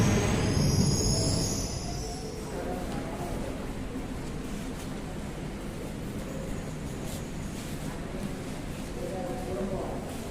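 A train arrives at the newly built Medak railway station, with a continuous rolling rumble and intermittent metallic wheel squeals that stay fairly close and steady for ten seconds, while voices are heard over it.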